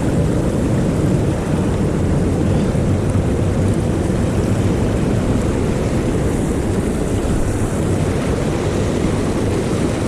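Water rushing over a hiking-trail crossing on the way to a cave, a loud, steady broadband roar filling the whole stretch with no talk over it.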